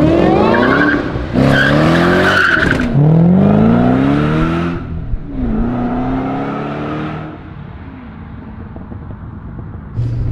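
A 1967 Shelby GT500 with a modern drivetrain pulls away hard, loud and close, its engine revving through rising gear pulls with tire squeal, then the sound fades into quieter road rumble.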